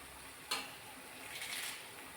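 Green chillies stirred in a hot pan for a fish thoran, a soft sizzle with a sharp scrape of the spoon near the start, close and fairly quiet.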